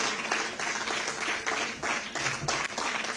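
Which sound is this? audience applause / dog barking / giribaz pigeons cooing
audience applause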